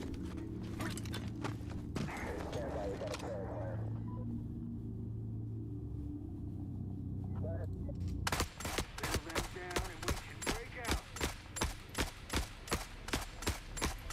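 Turrets open fire in the video game The Forever Winter. A dull, rumbling stretch gives way to loud, rapid, evenly spaced gunshot bursts that keep going to the end.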